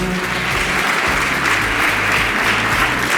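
An audience at an outdoor fashion show and beauty pageant in Piazzola sul Brenta claps continuously and fairly loudly, dense and steady throughout.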